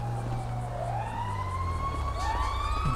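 Fire engine sirens wail and sweep in pitch as the trucks pull up at a Grand Theft Auto V street scene. A low vehicle rumble runs underneath, and the sirens stay loud and continuous throughout.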